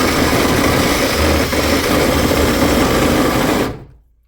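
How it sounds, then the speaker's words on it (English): A drill bit buzzes steadily as it cuts through the top of a rivet on a Ford E350 van door, a close, even whir that runs a few seconds before quickly fading out. "take the larger drill bit, drill the whole top side of our rivet"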